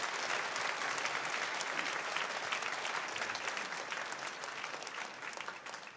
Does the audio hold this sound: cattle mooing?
no